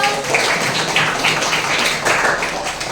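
Students clap hands in a school room during a vocational school outreach visit, a busy close patter of many claps, loud and continuous with a few voices mixed in.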